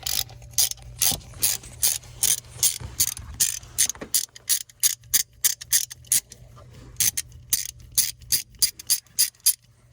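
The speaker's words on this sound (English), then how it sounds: "put my 10mm on my ratchet" A ratchet fitted with a 10mm socket removes the thermostat housing bolts on a 3.6 Dodge, Chrysler or Jeep engine. Crisp, close clicks come in quick regular bursts, with a short pause partway through.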